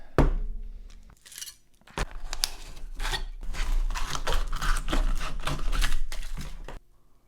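A knife hacks through a frozen energy drink can in a quick run of sharp, crunchy, clicking cuts, close and fairly loud, with short pauses between bursts.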